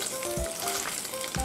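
Food sizzling and crackling in a hot frying pan, close up and continuous, with faint clinks of utensils.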